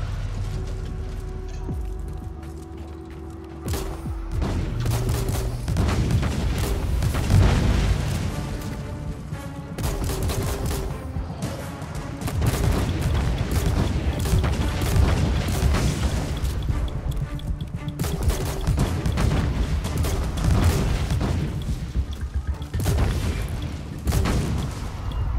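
Grenade launcher fire in the Warhammer 40k Inquisitor game, used by a heavy gunner crusader: repeated booming blasts and mechanical clanks run through a loud, dense stretch of combat with steady background noise and no talk.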